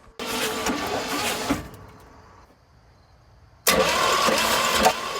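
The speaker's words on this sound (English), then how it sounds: "we hooked up the starter to this wire here so that when we touch it to the battery, it spins over the motor" The starter spins over the motor of a 1964 Chevy K10, a steady whirring crank that cuts out, leaves a near-silent gap, then kicks back in at full strength.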